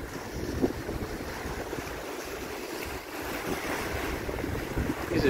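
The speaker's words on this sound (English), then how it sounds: "These are like piddly waves" Small, gentle ocean waves washing onto the Stanley Park shoreline in Vancouver, a steady continuous wash of surf with wind buffeting the microphone throughout, no voices.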